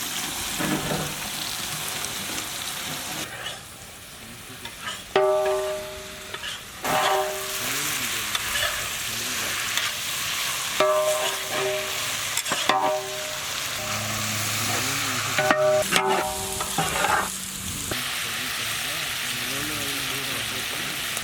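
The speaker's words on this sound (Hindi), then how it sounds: "इसी पे हम लोग बोनलेस चिकन, अच्छी तरह वॉश करा हुआ बोनलेस चिकन इस पे ऐड करेंगे" Washed boneless chicken sizzles and fries in a pan of cooked spices for a Mumbai-style tawa pulao, with steady crackling broken by scraping stirs, close up, while a voice talks over it at times.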